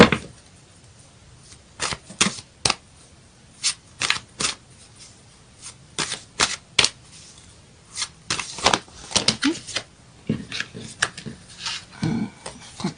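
Astrological cards are shuffled and handled up close, giving scattered sharp riffles and papery slaps in irregular bursts that grow busier toward the end.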